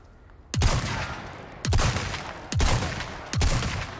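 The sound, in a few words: gunfire in the video game Resident Evil 4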